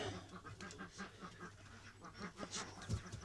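Ducks quacking inside a coop with laying ducks, a faint, busy chorus of repeated quacks and murmurs close by.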